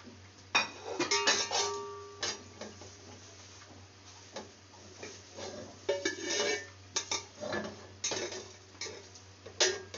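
Whole spices including mustard seeds and a bay leaf lightly dry-roasting in a pan for Hyderabadi aloo tahari, with scattered metallic clinks and scraping of a spoon against the pan over a steady low hum.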